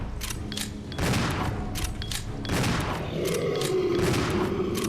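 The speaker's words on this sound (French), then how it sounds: "Je suis en train de vider toutes mes balles de pompe, les gars." Repeated shotgun blasts ring out in Resident Evil Zero, several heavy booming shots in quick succession with a mechanical pump between them, loud and close, with no speech over them.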